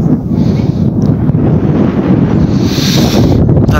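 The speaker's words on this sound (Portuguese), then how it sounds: "Tá ventando." Strong wind roars continuously across the microphone on top of a huge rock hill with a cross, a loud, close, buffeting rush with no speech.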